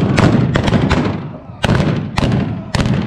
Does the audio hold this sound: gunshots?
yes